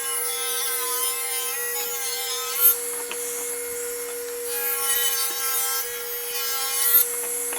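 A saw rips a 2x4 board into 1 1/2 inch strips, a steady, sustained cutting drone with a strong tonal whine and a couple of brief bumps, heard alone without talk.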